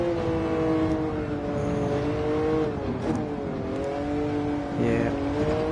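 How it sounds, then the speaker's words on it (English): A classic car's engine in Gran Turismo 7 drones with a steady harmonic note, rising and falling slightly as it drives a loop around gardens, loud and continuous throughout. "Listen to that engine note"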